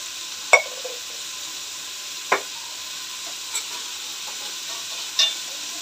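Chopped ginger with a pinch of salt sautés in a pan, a soft steady sizzle with four or five sparse, sharp scrapes and taps of a stirring spoon, close and quiet with no talking.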